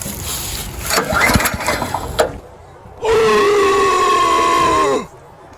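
A Sears lawn tractor engine, swapped to a Predator engine, cranks and sputters for a couple of seconds, pauses briefly, then catches and runs at a loud, steady drone before cutting off.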